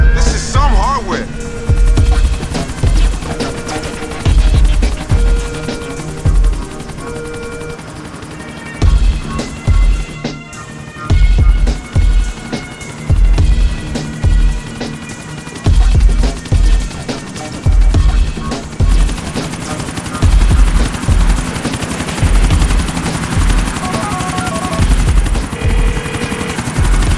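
Helicopter in the video game GTA IV, a steady loud rotor drone running throughout, with rhythmic thumping bursts and what may be gunfire mixed in, and talk over the top.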